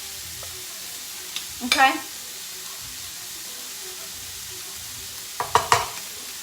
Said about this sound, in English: So then I'm gonna put in my cauliflower rice right into my skillet.